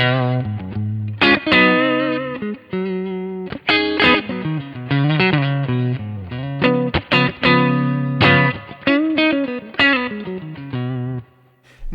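Clean electric guitar played through a Kemper transparent drive set low, loud and close with a sequence of strummed chords and picked notes ringing out, no talking.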